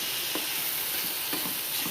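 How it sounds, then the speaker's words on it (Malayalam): Salted mango pieces for pickle are stirred in a hot pan, giving a steady soft sizzle and hiss with a couple of faint scraping stirs over about two seconds. "അപ്പോൾ നമുക്ക് നന്നായിട്ടൊന്ന് ഇളക്കി കൊടുക്കാം."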